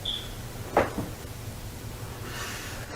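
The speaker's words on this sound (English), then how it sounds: "The door just moved." A door shifts with one short knock-like bump and a faint creak in an otherwise quiet room, followed by a soft airy rustle.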